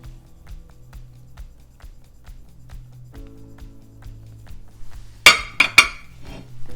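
Chicken salad with dried cranberries, sliced toasted almonds, celery and honey is mixed in a bowl, with soft rhythmic scraping and stirring followed by a few sharp utensil clinks against the bowl near the end.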